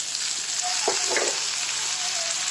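Tomato and spice paste fry in a pan, giving a steady close sizzle with a couple of brief stirring scrapes near the middle; no talk.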